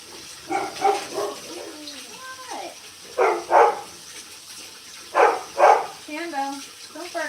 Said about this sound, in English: Don't bark at the cat.